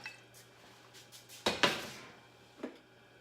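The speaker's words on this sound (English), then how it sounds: "I'm going to put the lid on and put it on high on the stove." A metal lid clatters onto a pot holding shrimp in a steamer basket, with two sharp clanks close together followed by a lighter knock a second later in a quiet kitchen.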